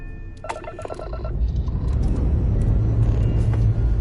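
A spaceship engine in Starfield starts up: a few electronic chime tones give way to a deep, swelling rumble that builds and holds loud and steady to the end.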